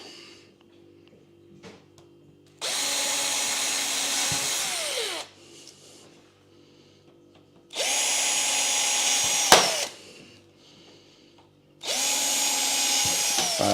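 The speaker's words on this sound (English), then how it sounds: "I got my trusty drills, drill a couple of holes in the sleepers" A power drill whirs in three separate bursts of a few seconds each, boring holes into wooden railway sleepers, with quiet pauses between.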